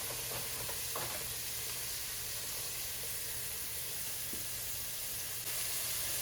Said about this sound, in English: saute this for a couple minutes. We just want that to be translucent